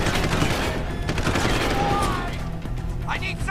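Turret firing in the video game Deus Ex Human Revolution, a loud sustained burst of rapid shots that thins out toward the end, with voices mixed underneath.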